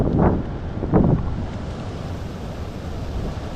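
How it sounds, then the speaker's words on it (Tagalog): Steady wind rushing over an open microphone in a grassy fishing spot, with two brief louder gusts near the start before settling into a constant low roar. "Sarap ng Sarap ng hangin, no?"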